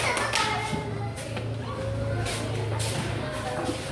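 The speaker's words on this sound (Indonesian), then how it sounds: "inilah berikan aplaus untuk ilustrasi" A classroom of students gives a short burst of applause for a group's illustration, the clapping light and scattered under ongoing voices and room chatter.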